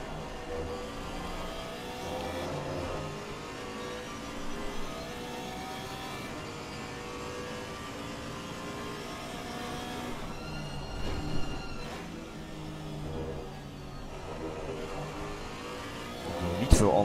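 Porsche GT4 engine in the racing game Assetto Corsa Competizione at Imola, a steady droning drone with shifting revs throughout, fairly faint, under someone talking in Dutch.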